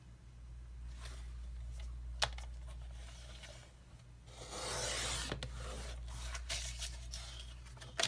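Card stock is being cut to 6 inches for a handmade box card, with soft scraping and rubbing strokes, a couple of sharp clicks, and a louder swishing cut in the middle, close and quiet.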